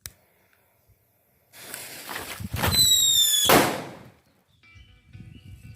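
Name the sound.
firecrackers being set off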